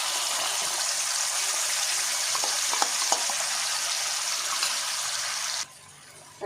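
Spice paste of ground ginger, cumin, coriander, green and dried chillies and turmeric fries in a pan for a vegetarian chhana kofta curry. A loud, steady sizzle runs throughout with a few soft clinks, then cuts off abruptly near the end.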